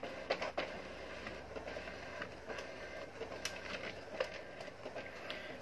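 An Epson M2140 monochrome printer makes a copy, giving faint, steady mechanical whirring with scattered clicks and soft clacks throughout, with no voices over it.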